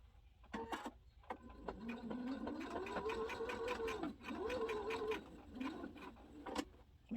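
A sewing machine stitching a fabric memory bear: a quiet, steady motorized whir that runs for several seconds, dips briefly, then resumes, with faint clicks at the start and end.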